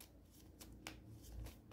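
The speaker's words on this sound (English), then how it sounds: "Shuffling is going very slow." Tarot cards are shuffled by hand, very quiet, with soft riffling and repeated sharp card snaps in an irregular rhythm against faint room hiss.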